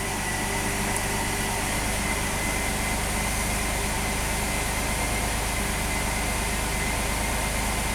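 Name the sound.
Chevy S10 Blazer V6 engine cranking long, then running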